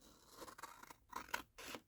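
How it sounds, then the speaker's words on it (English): Scissors snip through paper in a few crisp cuts with scraping between them, close and quiet, and no one speaks. "with my trusty scissors."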